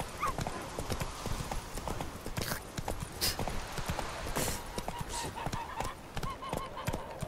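Horse hooves clip-clop steadily on the ground in the open-world fantasy game The Witcher 3: Wild Hunt, a continuous close rhythmic trotting with faint bird or goose calls in the background.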